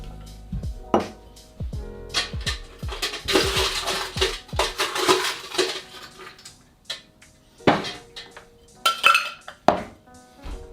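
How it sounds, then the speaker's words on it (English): Four or five ice cubes drop into a cocktail shaker for a Bloody Mary, giving a series of close, bright clinks and rattles, some in quick clusters, with short pauses between. "So get your shaker. I'm putting 4 to 5 ice cubes."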